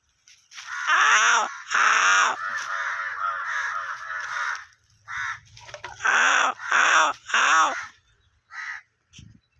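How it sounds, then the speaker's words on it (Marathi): Crows caw loudly from trees in repeated harsh bursts, several overlapping calls near and strong, with brief pauses between clusters and no talking. "ही जी कावकाव चालू झाली बरं का त्यांची"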